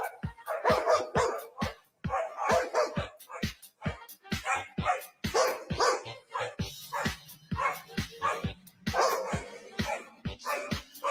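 A corgi barks at another dog on the far side of a glass barrier, giving a rapid, continuous run of sharp, close barks and yips for over ten seconds, with a person talking over part of it.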